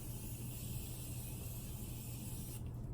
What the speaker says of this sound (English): Setting spray. Oh, this is the Morphe Continuous Setting Mist.